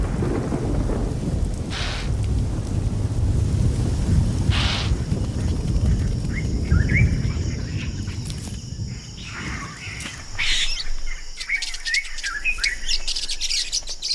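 A December rainy-season thunderstorm in southern Africa near the Zambezi, with steady loud rain and deep rolling thunder, while birds chirp and call over the downpour.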